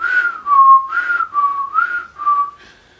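A storyteller's voice imitates a ladybird's wheezy, whistling breaths: six rising-and-falling whistled tones in a steady in-out rhythm, close and fairly loud, with no talking.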